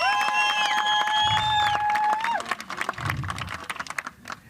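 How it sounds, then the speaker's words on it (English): At a political anti-corruption march in South Africa's North West, sustained horn-like tones sound first, then a crowd breaks into scattered, uneven clapping that thins out toward the end. "Let's give them a round of applause."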